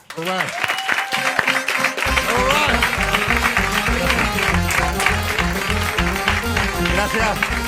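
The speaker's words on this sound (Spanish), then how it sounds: "Un aplauso para Ignatius Farray" Studio audience applause for Ignatius Farray on a Spanish karaoke comedy show, blended with loud, driving music and voices, continuing steadily throughout.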